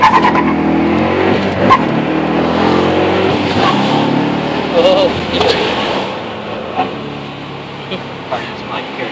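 A 2012 Dodge Challenger with the 5.7 engine pulls hard from inside the cabin, its broad engine roar rising and falling steadily over about nine seconds, with people talking loosely over it and brief tyre noise.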